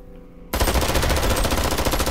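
Machine gun fire in Worms W.M.D starts abruptly after a quiet moment and continues as a loud, continuous rapid burst of shots until the end.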